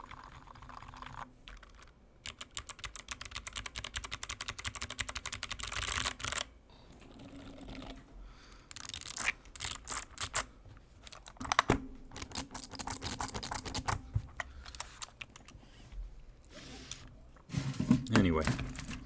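Typing on a full-size GMMK keyboard with heavily lubed Gateron Silent Yellow switches gives a soft, muted, rapid patter of keystrokes in long runs with short pauses, close and steady.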